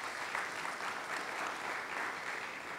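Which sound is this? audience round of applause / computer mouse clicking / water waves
audience round of applause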